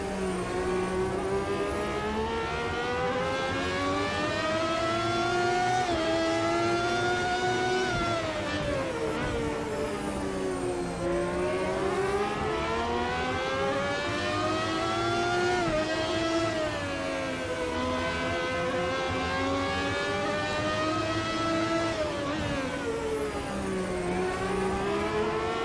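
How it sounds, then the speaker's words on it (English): Formula Classic Gen 4 race car engine in the Automobilista 2 racing game at Cascais, a loud continuous high-pitched whine rising and falling with revs through repeated gear changes, close and dominant throughout. "Got jump scared by an engine. What a noise!"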